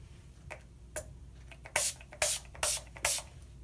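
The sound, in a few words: Mary Kay makeup setting spray being sprayed on face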